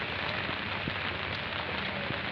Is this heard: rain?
yes